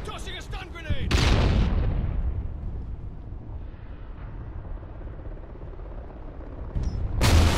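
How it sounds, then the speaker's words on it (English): Stun grenade going off in Call of Duty: Ghosts, a loud, sudden blast that rolls into a long, dull roar before fading, with another sharp burst near the end. "Tossing a stun grenade!"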